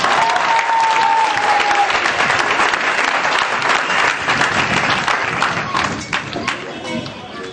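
A church congregation applauds and cheers in praise of the Lord, a dense, loud, sustained wash of clapping that thins slightly toward the end, with voices mixed in.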